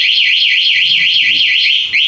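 Anti-theft alarm fitted to a Yamaha F1ZR motorcycle, wailing in a loud, steady up-and-down siren sweep that repeats about every quarter second, briefly breaking near the end before resuming, with no talk over it.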